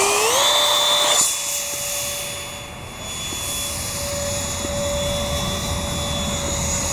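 Whining electric ducted-fan roar from an RC thrust-vectoring Falcon jet model, rising in pitch at the start and then holding a loud, steady whoosh as it flies past.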